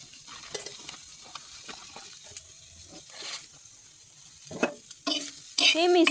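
A besan mixture with poppy seeds and grated coconut is roasted and stirred in a pan, with irregular scraping strokes over a soft sizzle, growing busier and louder toward the end.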